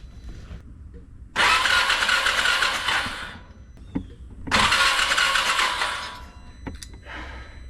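A 2017 Can-Am Defender H5D side-by-side engine being cranked over twice in two loud, sustained bursts of starter whir and engine churn, separated by a quieter pause, with a short weaker attempt at the end.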